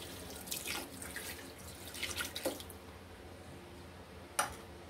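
Water being poured into a cooking pot for Peshawari namkeen beef rosh, a faint, irregular splashing and trickling in brief bursts, ending in a sharp drip, with no voices.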